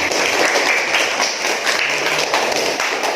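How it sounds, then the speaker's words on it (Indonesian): An audience applauds presenters at the close of a classroom presentation, a steady patter of many hands clapping together at moderate loudness throughout. "silakan give applause, tepuk tangan untuk teman-teman"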